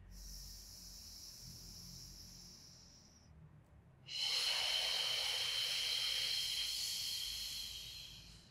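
Deep breathing during a beginner Pilates core exercise: a long airy hiss fades out, then after a short pause a louder, rushing breath rises and holds for several seconds.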